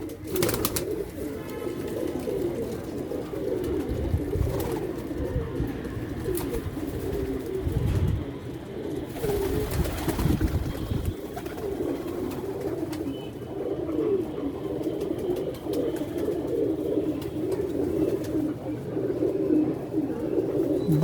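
Pigeons cooing steadily throughout, soft throaty calls repeating close by, with occasional rustling and handling noises and someone speaking intermittently over them.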